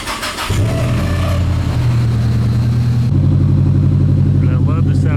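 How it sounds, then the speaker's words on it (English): Turbocharged Nissan S14 Silvia cranking and firing up, a short starter whir followed by the engine catching and settling into a loud, close, rumbling idle with a sharper blip near the end. "Car starts right up"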